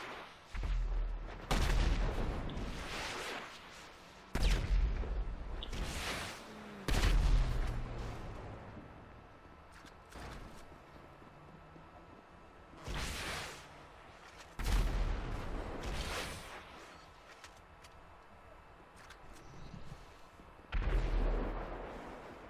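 Heavy gunfire and explosive blasts from GTA V Online's Rockets vs Insurgents mode boom out in separate loud bursts a few seconds apart, with a low rumble between them.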